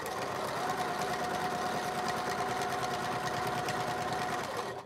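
Sewing machine stitching quilt fabric in one continuous, close, rapid mechanical run, an even whirring rattle that holds steady for several seconds before easing off at the end.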